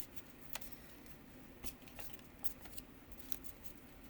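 Soft, quiet riffling of tarot cards being shuffled, with light intermittent flicks and taps.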